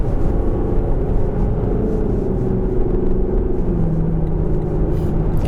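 A Lexus LC 500 convertible's naturally aspirated V8 accelerates with a steady, loud low rumble and a droning whir that climbs and settles, heard close and continuous for several seconds with no talk.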